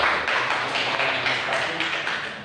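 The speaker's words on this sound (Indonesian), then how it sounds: "Dan lagi sudah berikan aplaus pada teman." A classroom audience gives a classmate a round of applause during a teaching session: a steady, moderately loud wash of many hands clapping that carries on for the whole stretch without a break.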